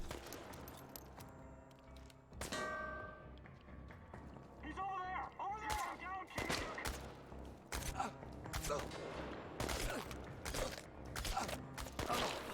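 Gunshots ring out in the game Chernobylite, a handful of sharp reports scattered among clanks, footsteps and metallic mechanisms, with a voice speaking at points.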